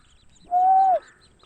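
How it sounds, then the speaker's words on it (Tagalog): A single clear bird call rising from below ground, one steady whistled note about half a second long, loud and close, with no talk over it. "May ibon dito guys"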